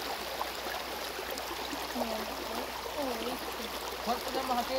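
River water running over rocks along a riverbank in the south stretch of the Rosario river, a steady close wash of flowing, trickling water that fills the whole clip.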